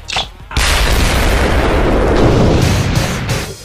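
A loud anime explosion bursts with a sharp onset, then sustains a dense, roaring rumble for about three seconds before tapering off, with no talking.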